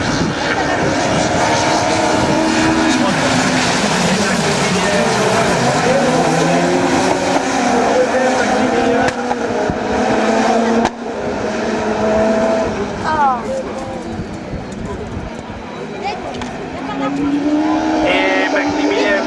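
Rallycross cars roar off the line together at a race start at Lessay, a loud sustained engine din with revs rising and shifting throughout, under a commentator talking.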